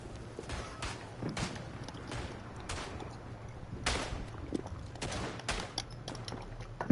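Machine pistol firing in a First World War trench shooter video game, short bursts of rapid gunshots at irregular intervals, fairly faint against a low background hum.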